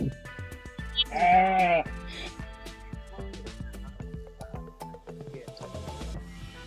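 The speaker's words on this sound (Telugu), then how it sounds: "చూడండి ఎన్ని గొర్రెపోతులు" A loud sheep bleat rises and wavers near the start, followed by scattered clicks and softer bleats in the background, from rams in Vanukur village.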